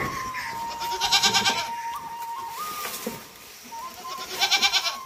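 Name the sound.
goats bleating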